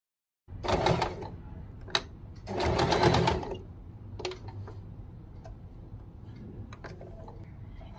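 A sewing machine stitches old T-shirt fabric in short bursts, close and fairly loud, with quick pauses between runs, followed by quieter intermittent clicks and low handling noise.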